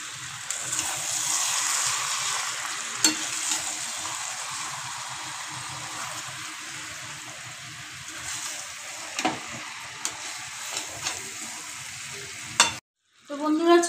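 Gondhoraj lemon chicken sizzles and fries in a pan as it is stirred, with a steady close hiss, scraping stirs and a few clacks before a sudden cut and a brief burst of bubbling at the end.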